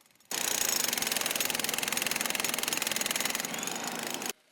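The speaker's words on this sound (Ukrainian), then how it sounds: "Для роботи задіяли, зокрема, відбійний молоток." A jackhammer breaking up asphalt during street pothole repair pounds in a rapid, steady rhythm for about four seconds, loud and close, then stops abruptly.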